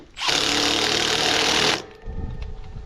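Milwaukee power tool fastening teeth onto a swather, a loud, steady high-pitched whir lasting about a second and a half, then cutting off into quieter clatter of handling nearby.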